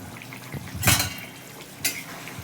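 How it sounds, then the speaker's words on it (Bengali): Fried pieces of katla fish go into a pot of boiling curry, with two sharp clattering bursts of the fish and utensil knocking against the pot, one after the other, and a quiet bubbling simmer in between. "এবার আমি সব ভেজে রাখা মাছগুলো এর মধ্যে দিয়ে দেবো।"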